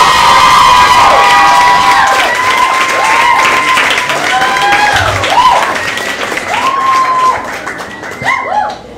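A comedy club audience at the Metropolitan Room applauds and cheers loudly to welcome a comedian, with whooping shouts rising and falling over steady clapping for the whole stretch, tapering slightly at the end.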